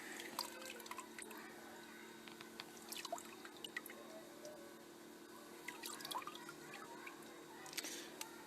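Water draining out of a gold panning sluice gives faint, scattered drips and small trickles, quiet and irregular over a low background hum.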